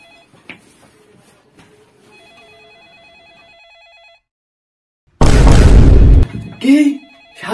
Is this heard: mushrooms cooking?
no